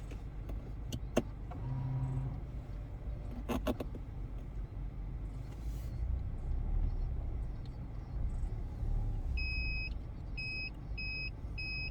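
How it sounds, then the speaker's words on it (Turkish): A Peugeot 3008 in reverse gear, its parking sensor sounding a series of short, evenly spaced electronic beeps over the low hum of the idling engine, with a few clicks earlier on. "hem de park sensörünün sesi gelmeye devam ediyor"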